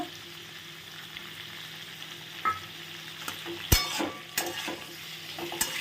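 Cubed onions and ripe tomatoes frying gently over a low flame in a pan, a soft steady sizzle with a few clinks of a stirring spoon against the cookware.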